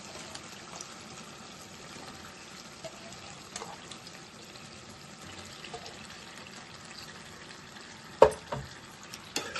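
Washed chicken sizzles faintly with tomatoes in a pan, a low steady frying hiss close by, with a couple of louder clattering knocks and splashy sounds near the end and no voices.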